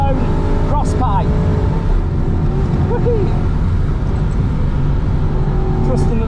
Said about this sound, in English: V8, naturally aspirated, running Valiant Ecosse's own cross pipe.